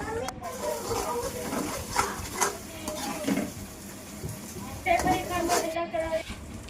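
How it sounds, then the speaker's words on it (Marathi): Onion and tomato paste sizzles and fries in a pan with steady stirring and occasional clinks of a spoon against metal; a voice speaks over the cooking throughout. "पेस्ट बनवून घेतली ते त्याच्यामध्ये टाकून चांगल्या प्रकारे फ्राय करा"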